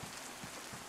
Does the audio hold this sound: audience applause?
no